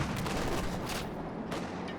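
Gunfire from Company of Heroes 2 as units open up on German Grenadiers, a dense, steady crackle of rifle and automatic shots mixed with booming battle noise throughout.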